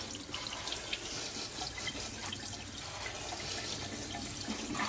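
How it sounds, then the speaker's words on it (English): Tap water runs steadily onto celery and other vegetables being rinsed in a sink, a continuous close splashing rush with small irregular spatters, no voices. "I'm gonna get them all washed down"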